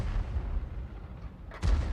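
Conway tank gun in a tank video game fires with a heavy booming blast near the end, following a low rumbling engine-and-ambience bed.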